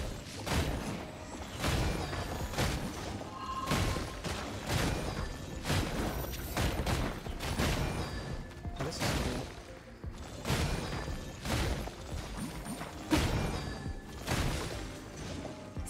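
Keqing's elemental burst in Genshin Impact plays out as a dense run of loud, rapid impacts and thuds. Repeated crashing strikes continue steadily for about sixteen seconds, and no voices are heard.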